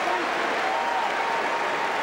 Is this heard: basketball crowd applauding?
yes